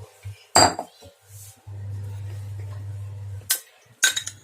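Cleaned boti (goat tripe) goes into a pressure cooker, giving a sharp metallic clank at the start and two more near the end. A steady low hum runs between them, and there is no talk.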